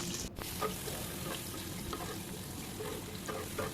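Hilsa fish frying in oil after being flipped to its other side, a steady near sizzle with soft bubbling and a brief clatter near the start, no talking.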